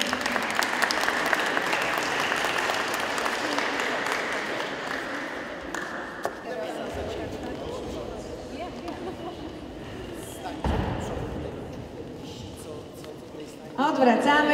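An audience at a school carol and pastoral-song contest in Białka applauds the first-place winners; sustained clapping dominates the first half, then fades to sparse claps and murmuring chatter, with a burst of applause at the very end.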